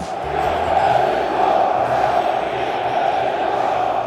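A packed group of football supporters in Denmark roars and chants before a match, producing a loud, sustained wall of crowd shouting that fills the space without pause.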